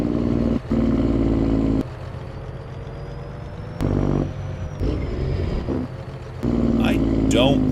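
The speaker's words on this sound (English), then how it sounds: "Hear that downshift?" A heavy truck engine in Farming Simulator 25 drones, then drops in pitch and surges as gears downshift, with someone talking over it.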